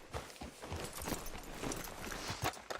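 Horse hooves walking in the video game Red Dead Redemption 2, a quiet, steady clip-clop of a single horse moving at a walk, nearby and unaccompanied by talk.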